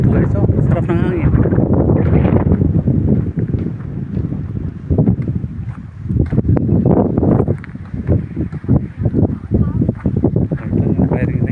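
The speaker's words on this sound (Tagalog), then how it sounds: "Oh, sarap ng hangin dito guys." Strong wind buffets the microphone at an outdoor firing range in Tampilisan, rumbling in heavy gusts while someone speaks over it.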